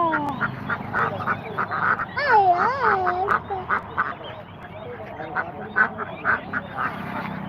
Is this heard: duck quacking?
yes